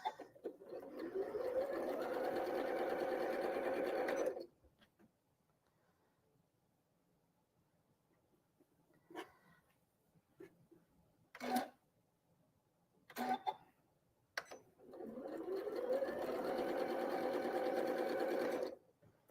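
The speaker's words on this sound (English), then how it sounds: "I'm going to sew those little scraps together because I want to save them." A sewing machine stitches small fabric scraps together in two steady whirring runs, loud and close, separated by a quiet stretch with a few sharp clicks and handling noises.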